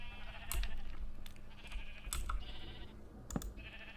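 A few sheep bleat in Minecraft, with short, game-style calls inside a large pen. Faint clicks and block sounds from the game punctuate the calls, and no one speaks.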